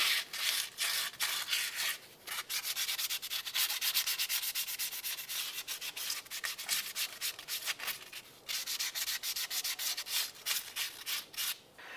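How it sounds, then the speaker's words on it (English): Sandpaper rubs by hand around the hub mount of a 2006-2011 Cadillac DTS during a rear wheel bearing replacement, a close, continuous scratchy rasp in quick repeated strokes with a couple of brief pauses. "Just using a little bit of sandpaper to go around and clean off any high spots that might cause some resistance for the new hub."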